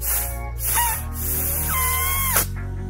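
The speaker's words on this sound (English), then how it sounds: "fired up the compressor, let's see what happens" Air compressor blowing through a plugged coolant hose on an 89 K1500, giving a few loud close hissing air bursts with short sputtering breaks between them.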